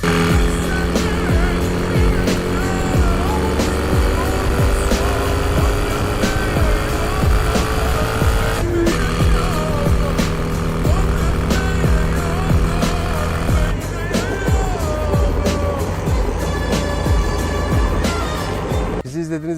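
A Jawa motorcycle being ridden, its engine a steady, buzzing drone that runs throughout with slight shifts in pitch, heard under someone talking.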